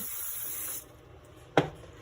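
A quiet, steady hiss of cooking spray on biscuit tops runs for under a second, followed by a short, sharper burst a moment later.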